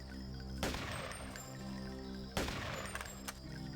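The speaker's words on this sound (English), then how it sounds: "can you shoot out cameras?" Two sharp gunshots ring out in Deus Ex as the player shoots at security cameras, spaced well apart, each a loud broadband crack followed by a brief metallic ring over a quiet ambient hum.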